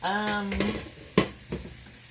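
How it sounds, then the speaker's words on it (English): Peppers being sautéed in a pan, a brief sizzle with a couple of sharp stirring scrapes and clanks, close and fairly loud, with no one talking. "we are just going to saute these peppers"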